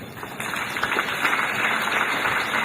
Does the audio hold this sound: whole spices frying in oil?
no